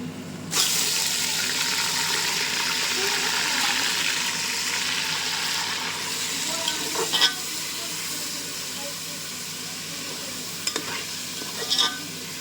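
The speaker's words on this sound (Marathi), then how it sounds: "मटण तेलामध्ये पूर्ण फ्राय करून घ्यायचं हाय फ्लेमवरती." Mutton pieces frying in hot oil over a high flame, added after browned onions: a steady loud sizzle fills the whole stretch, with a few brief scraping stirs and clinks near the end, no talking.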